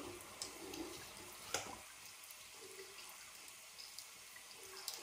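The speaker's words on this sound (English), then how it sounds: "Rinse off the face a little bit." Water from a tap runs and splashes softly while a face is rinsed during a wet shave with a Karve aluminum razor, a low steady trickle with a few brief splashes and small knocks, no talking.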